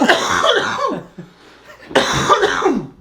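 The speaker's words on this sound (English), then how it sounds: "So I have 2 camera coughs for anyone counting." Two loud, close coughing fits from a person on a podcast, each a cluster of harsh bursts, separated by a short quiet gap.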